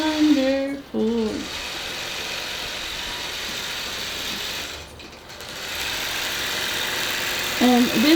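Longarm quilting machine stitching a quilt, a steady close mechanical whir running throughout with brief dips, while a voice speaks over it at the start and end.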